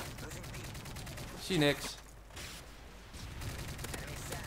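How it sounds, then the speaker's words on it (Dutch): Bursts of automatic gunfire from a Modern Warfare 3 Ghosts-mode match with a gold AK-47, rattling over a steady game soundtrack while someone briefly speaks. "Ik schiet heel vaak door dingen heen"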